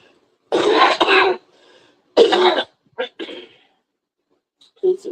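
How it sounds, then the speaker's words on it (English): A person coughs and clears their throat in a few separate harsh bursts close to the microphone, with short pauses between them. "I got a little bit of a cough today."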